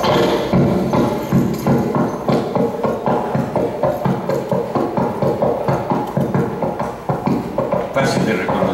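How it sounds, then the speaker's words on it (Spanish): Rhythmic hoof clip-clop of a horse, steady and fairly loud, repeating evenly throughout with a hollow knocking quality. "pero de que reconocemos que este es el sonido de un caballo"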